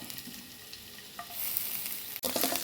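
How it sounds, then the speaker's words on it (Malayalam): Crushed garlic cloves frying in sunflower oil give a steady, close sizzle with faint stirring, the hiss growing brighter and louder partway through after a brief break; no one speaks. "അതൊന്ന് ചെറുതായിട്ടൊന്ന് ചതച്ചതിന് ശേഷം നമുക്കിതിലോട്ട് ഈ ഓയിലിലോട്ട് ഇടാം."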